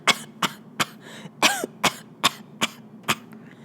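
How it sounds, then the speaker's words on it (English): Someone coughs repeatedly in a rough, hacking series of about nine short bursts, close and fairly loud, with a strained throaty sound midway. "How long have you had that cough?"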